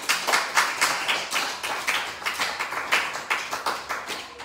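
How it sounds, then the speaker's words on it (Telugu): A gathered congregation claps together in a loud, rhythmic unison beat, roughly three sharp claps per second, each clap distinct and the pattern steady throughout. "చప్పట్లు కొట్టి గట్టిగా ఒకసారి"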